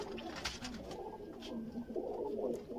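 Sialkoti red-pearl pigeons coo softly and repeatedly at close range, low throaty calls with no talking.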